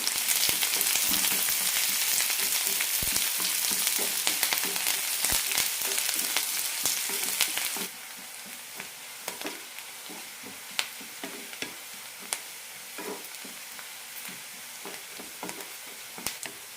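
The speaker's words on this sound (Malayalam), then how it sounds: "പാനിലേക്ക് രണ്ട് ടേബിൾ സ്പൂൺ എണ്ണ വെച്ചിട്ടുണ്ട് ഇതിലേക്ക് കടുക് ഇടാം കടുക് പൊട്ടിക്കഴിയാറാവുമ്പോൾ കറിവേപ്പിലയും സവാളയും ഇടാം" Mustard seeds, curry leaves and onion fry in two tablespoons of oil in a pan for a colocasia fry, giving a loud, steady sizzle that eases midway into a quieter hiss dotted with sharp crackles and pops.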